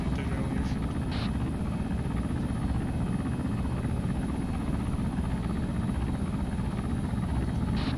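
Steady, loud helicopter rotor and engine drone from a damaged military helicopter in a combat video game, a dense continuous roar with no talk over it.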